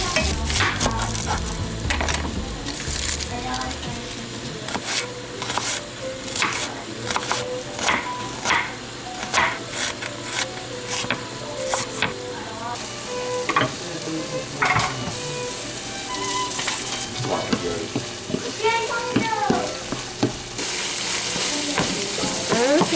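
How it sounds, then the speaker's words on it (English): Celery stirred into browning sloppy joe meat in a pan, a close, steady sizzle broken by repeated scraping and clinking spoon strokes against the pan, with no talking. "I'm gonna put the celery in and stir this a little bit"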